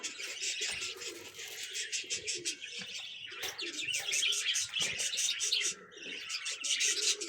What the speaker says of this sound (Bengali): দেখো আমাদের এখানে এক জোড়া কাকাটেল, এখানে এক জোড়া কাকাটেল